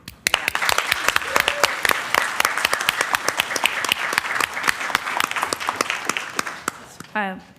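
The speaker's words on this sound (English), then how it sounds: "Can we applaud?" Audience applause in a plenary room at a library network's spring meeting: dense, loud clapping from many people fills the whole stretch, with voices mixed in, then fades out near the end.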